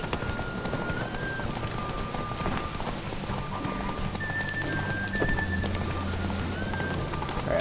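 Horse hooves clip-clopping at a steady run in The Witcher 3, a continuous rhythmic beat with rain-like ambience and faint game music underneath.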